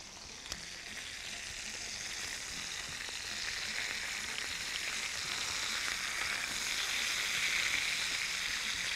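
Chicken thighs with rosemary fry in a pan, a steady close sizzle and crackle that swells slightly as the pieces are turned, with no voices.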